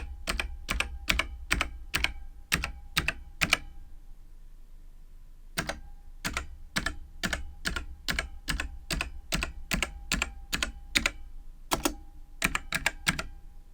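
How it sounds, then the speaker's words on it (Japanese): An old FILCO FKB-109J mechanical keyboard with Alps switches, about 28 years old, typed on in close, loud, sharp clacky keystrokes, fast bursts broken by a brief pause, with no talking. "お待ちかねの打鍵音を聞いてみたいと思います"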